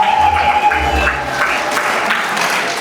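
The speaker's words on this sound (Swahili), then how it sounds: "Makofi mengi kwa Yesu Kristo Mwokozi" Church congregation in Sumbawanga claps in a short burst of applause for Jesus Christ, a dense crowd patter over a faint tonal hum, fairly loud and continuous.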